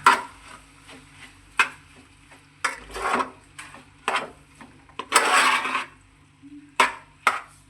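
Cauliflower chili being mixed with sauce in a pan, a spoon scraping and knocking against the metal in irregular strokes with pauses, close and fairly clear, with no talking.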